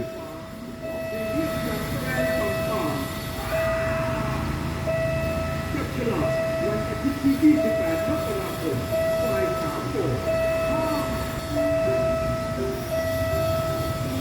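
A suburban train, number 4384 from Mae Klong to Ban Laem, rumbles past at close range at a level crossing in Samut Songkhram, Thailand, while the crossing bell rings in a steady repeating tone, with someone talking in Thai over it.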